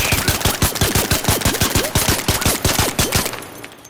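The Kettle rifle in the video game ARC Raiders firing rapidly, about fifteen loud, evenly spaced shots in a quick rhythmic burst that stops near the end, no talk.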